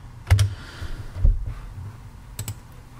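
A few quick keystrokes on a computer keyboard, faint and close, with two short clicking bursts separated by a pause and no speech.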